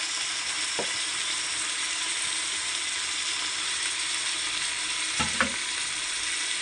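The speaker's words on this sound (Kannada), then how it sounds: "ಸ್ವಲ್ಪ ಕಂದು ಬಣ್ಣ ಬಂದ ಮೇಲೆ ಶುಂಠಿ ಬೆಳ್ಳುಳ್ಳಿ ಜಜ್ಜಿದ ಪೇಸ್ಟನ್ನು ಹಾಕಿ" Crushed ginger-garlic paste fries in a pan for village-style country chicken sambar, giving a steady, close hiss of sizzling with a couple of soft scraping stir clicks.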